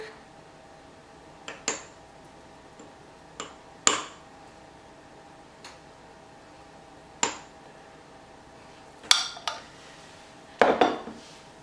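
Stuffed mushroom mixture being scooped into a serving dish, heard as sparse clinks and knocks of a utensil against the dish, about eight separate taps spread across a quiet room, with a quick cluster near the end.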